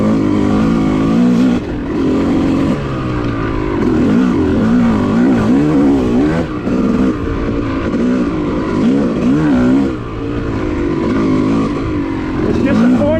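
A Yamaha YZ250 two-stroke dirt bike rides a forested off-road OHV trail, its engine buzzing loud and near throughout, pitch rising and falling with throttle changes; a voice talks over it.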